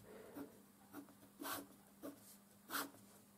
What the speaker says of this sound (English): So the skipping is compensated by the nice sound that the nib has on the paper.